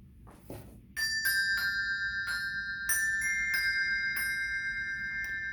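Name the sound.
Malmark Cymbells handbell-style bells being played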